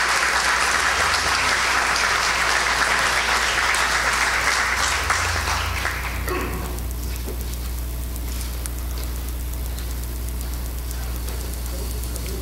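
An audience at a ceremony awarding the Miraflores Municipal Civic Medal claps loudly for about six seconds, then the applause fades and leaves a low hum with quiet room noise.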